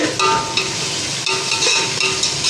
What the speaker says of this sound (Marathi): आता आपण हे कांदा परतून घ्यायचा आहे।